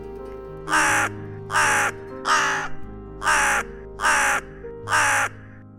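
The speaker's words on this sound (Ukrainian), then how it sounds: "А це хто? Ну, звісно, це ворона. А ворона як каже Кар, кар, кар." Six loud crow caws in a steady, evenly spaced series, each a harsh rasping call standing out clearly over a faint low background hum with no talking.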